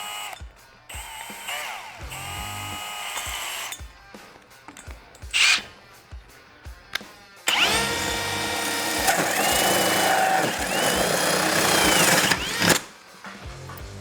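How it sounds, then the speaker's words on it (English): A cordless drill whines in bursts, then a longer, steady grinding run as a hole saw bites through material, with brief pauses between. "We're then going to chuck in our hole saw."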